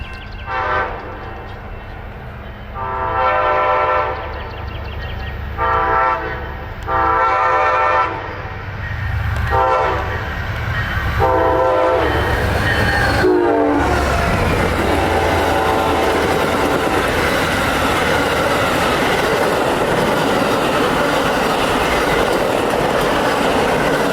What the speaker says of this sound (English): Next came Amtrak 97 emerging from the fog